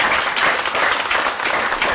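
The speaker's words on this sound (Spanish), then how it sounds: "Un aplauso, por favor" Dense, continuous applause from a conference audience fills the whole moment, loud and even, with no pauses.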